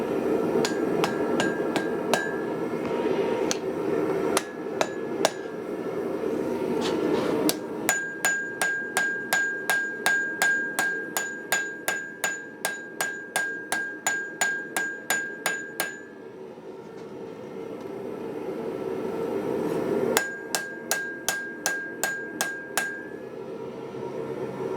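Hammer blows straightening a forged axe with a bolster, ringing metallic strikes in a steady rhythm, close and loud, with longer runs broken by brief pauses and no talk.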